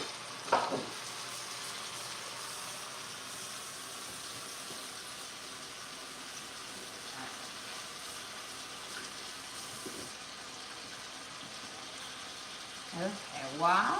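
Stew meat sautéing in a pan for stew, a low, steady sizzle running throughout with a few brief clatters near the start and end, fairly faint and with no talk over it.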